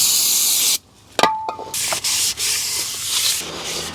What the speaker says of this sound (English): Just make sure you wipe all the friction surfaces, including the inside where the parking brake shoes go